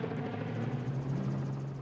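Helicopter filming a desert rally at the Vryburg 400, its rotor and turbine giving a steady, loud, continuous drone with a low throbbing hum throughout, no voices.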